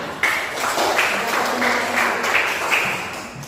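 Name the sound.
clapping hands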